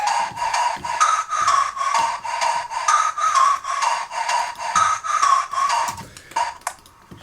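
A custom synthesizer flute preset, the PL flute, plays a loud, bright run of short repeated notes in a steady pulsing rhythm with small pitch shifts. The notes are heard alone and end in a brief fade.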